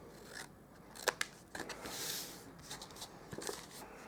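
Scissors trimming cardstock for a Stampin' Up! Tropical Chic box: a few crisp snips and crunching cuts close by, quiet and intermittent, with no talking.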